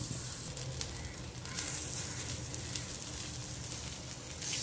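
Corn cutlets fry in hot oil on a pan, a faint, steady sizzle with soft crackles throughout, heard up close with no talking.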